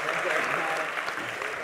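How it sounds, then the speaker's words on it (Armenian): A studio audience claps for a pair of young male contestants on an Armenian humor game show, a thick, even roar of applause sustained at steady volume with no break. "Եկեք ծափարենք տղաներին"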